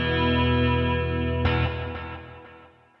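Electric guitar played through a Nux MG-300 multi-effects unit with delay turned fully up, a sustained distorted chord ringing out, then a fresh strike whose repeats smear and trail off into fading echoes.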